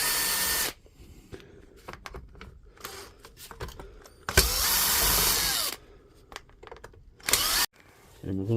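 A power screwdriver whirs in short bursts backing T10 Torx screws out of the side housing of a DeWalt DCN660 nailer, with a few loud whining runs separated by quiet handling and clicks, close up.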